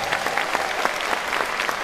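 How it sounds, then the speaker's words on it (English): Audience applause at a live show welcoming a guitarist who played with Roy Orbison, with dense, steady clapping from a crowd, close and loud, lasting under two seconds and carrying no speech. "Give him a nice big round of applause."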